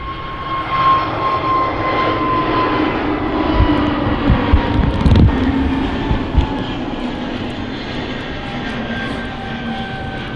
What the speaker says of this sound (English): EasyJet looks like on the roll.